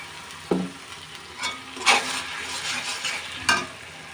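Blended spice paste going into lightly fried onions in a pan for hilsa pulao, with a few sharp sizzling bursts and stirring scrapes over a steady low frying hiss, no talking.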